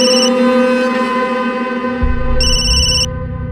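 A phone's electronic ringtone plays a steady, loud melodic tone close by, with a brief additional beeping pattern layered over it near the end and no speech.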